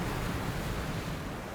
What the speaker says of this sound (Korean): 이 바다가 발 아래 흐르고 있고